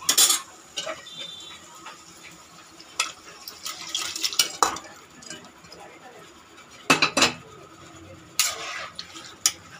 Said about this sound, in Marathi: आता मी याच्यामध्ये जे आपण मटण कुकरला उकडवून घेतलंय ते मटण घालते